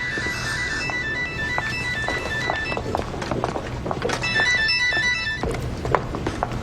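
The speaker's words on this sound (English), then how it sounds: "Oh, I think your phone's ringing." A phone ringtone chimes in repeated bursts of electronic tones over busy, clattering background noise.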